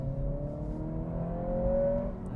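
Road noise inside the cabin of a 2023 Acura Integra Elite A-Spec with a manual gearbox at highway speed, a steady low drone with a faint rising engine whine, fairly quiet and unbroken.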